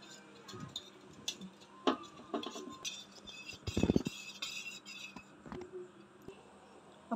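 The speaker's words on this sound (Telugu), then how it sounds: "ఉండలు లేకుండా మిక్స్ చేసుకోవాలి." A spoon stirs cornflour and water in a bowl, with scattered clinks and scrapes against the rim in an irregular rhythm, fairly quiet and close.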